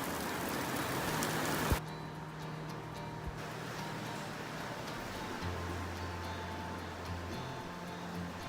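A summer storm sends steady rain pattering on surfaces outdoors, a dense, even hiss that runs throughout. A louder burst of heavier rain fills the first two seconds, then eases to a softer continuous patter with a faint low rumble beneath.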